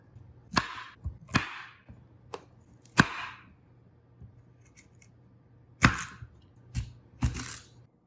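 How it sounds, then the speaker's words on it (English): Knife chopping a peeled sweet potato on a cutting board, a handful of crisp, sharp cuts at uneven intervals, close and clear, with quiet gaps and no talk. "Now we are going to peel and chop up our sweet potato"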